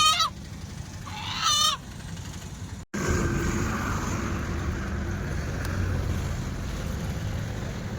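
Live desi chickens at a poultry shop: two brief, squawking calls near the start, then a steady wash of shop noise with no further distinct calls.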